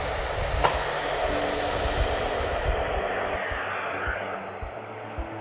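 A Miele Complete C3 vacuum cleaner runs steadily on carpet with the floor head bristles retracted, a loud continuous motor whir with airflow hiss holding level throughout, no talk over it.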